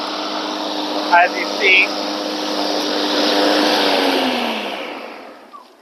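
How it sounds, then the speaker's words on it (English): A Husqvarna 322R battery-powered self-propelled lawn mower runs its blades with a steady electric whir that rises, then fades near the end, while a person talks over it. "push the start button. The blades are started."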